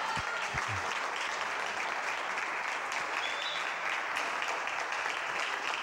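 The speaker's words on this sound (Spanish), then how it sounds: "Un aplauso para María Camila," Steady audience applause fills a master class hall after a flute student's turn, broad and continuous at moderate loudness for the whole stretch, with no voices breaking through.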